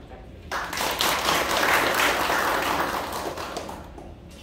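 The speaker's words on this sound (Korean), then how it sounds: "박수 부탁드립니다." At the founding general meeting of a nonprofit association, the audience starts clapping after a brief quiet moment, building into sustained, full applause before it tapers slightly at the end.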